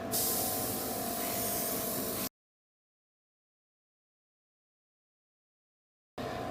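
A light coat of spray paint goes onto a large Gundam RX-78-2 model kit as a close, steady hiss of about two seconds. After a silent gap, a second short burst follows.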